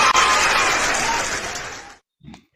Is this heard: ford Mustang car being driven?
no